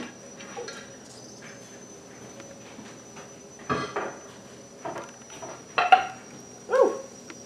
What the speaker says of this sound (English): That was 2 or 3 of them popping instantly